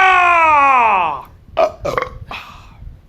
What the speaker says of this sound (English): Grade the burp.